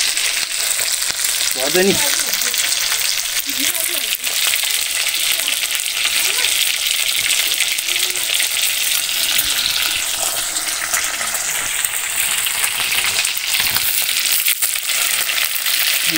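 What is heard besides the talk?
local Nepali fish frying in a pan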